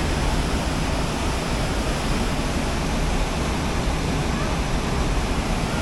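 A waterfall in Baños, Ecuador gives off a loud, steady broadband roar that holds constant throughout, with no voices over it.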